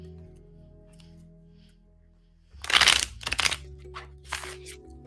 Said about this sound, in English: Nice shuffle.